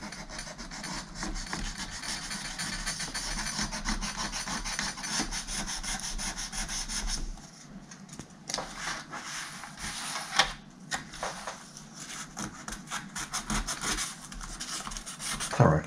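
Hand rubbing down the casing of a Dell Latitude CPi laptop, a steady abrasive scrubbing that runs near and continuous, easing briefly midway before resuming with scattered sharper scrapes.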